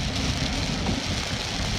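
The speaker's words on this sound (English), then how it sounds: "it's raining hard" Steady, dense patter of heavy rain drumming on a car, a constant close hiss with no pauses or voices.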